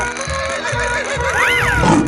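A horse in a 3D animal video game whinnies in a wavering neigh that rises and falls, loud and close over a rhythmic background beat.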